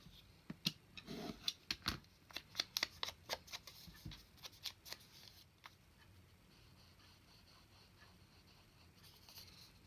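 Scissors cut a leftover piece of paper down to a narrow strip for junk journal ephemera, giving a rapid run of crisp snips and rustles up close, then quieter paper handling, with no talk.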